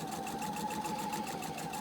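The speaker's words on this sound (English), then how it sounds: "I'm just going to start to sew and the foot will automatically come down for me" A PFAFF Expression 720 sewing machine stitches fabric at a steady, fast pace, a close, even whirring hum with a rapid rhythmic needle pulse and no talking.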